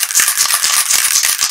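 Can of fast-drying acrylic craft enamel spray paint shaken hard: rapid, loud, close metallic rattling of the mixing ball in a steady rhythm, alone without talk.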